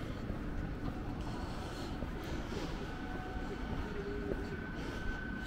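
A constant rumbling roar of a train running along the South Shore track in Blackpool, steady and fairly loud, with a faint squeal rising briefly near the end.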